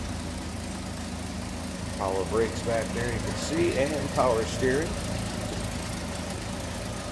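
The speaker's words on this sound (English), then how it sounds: "Again, 200 cubic inch inline 6." A 1968 Ford Mustang coupe with a stock 200 cubic inch inline six idles in a steady low hum, running continuously beneath someone talking close by.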